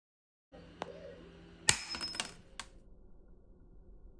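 Irwin Vise-Grip high-leverage lineman's pliers (model 1902415, made in Germany) cutting through a nail: a close, sharp metallic snap follows a small click and leaves a few faint clinks, with no talking.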